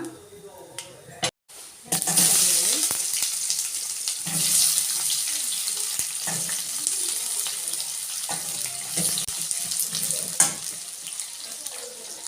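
Oil heating and crackling in a pan at the start of a rustic-style mutton sambar, a steady broadband sizzle that runs close and fairly loud for most of the stretch, with brief clatters and no speech over it.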